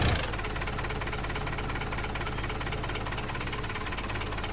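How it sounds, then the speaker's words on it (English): A Land Rover engine runs steadily in the Project Reality video game, a loud, continuous droning rumble with a slight knocking texture that holds for several seconds without voices. "Gotta cut off the engine."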